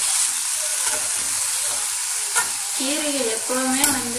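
Ponnanganni greens sautéed in a hot pan for a poriyal, a steady close sizzle and hiss with stirring scrapes, while someone speaks briefly.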